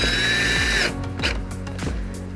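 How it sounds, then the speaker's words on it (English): A cordless power drill whirs in short bursts while driving screws into a front lip on a 2018 Subaru WRX, loud and close, with brief pauses between the pulls. "Just gonna drill them in."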